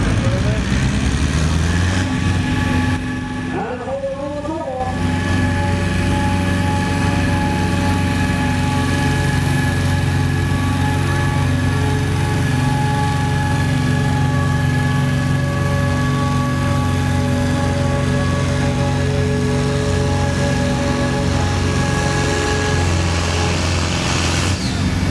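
A Zetor Crystal 10011 tractor roars loudly at a tractor pull, its engine holding a sustained heavy drone with a brief shift in pitch near the start, while an announcer talks over it throughout.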